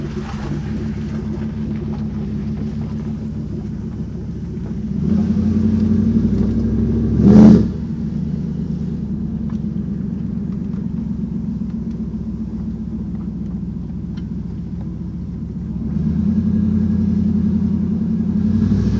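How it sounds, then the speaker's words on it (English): A 1993 Pontiac Trans Am engine idles and rumbles steadily as the car is driven slowly around a parking lot, with a few swells of revving and one brief louder blip near the middle; nobody talks. "I'll just drive it around the parking lot a little bit so you can kind of see that it works."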